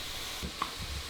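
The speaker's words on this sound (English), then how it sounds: "Now we're just browning." Zucchini browning in a frying pan gives a steady low sizzle, with a couple of soft stirring scrapes and a brief faint tick partway through.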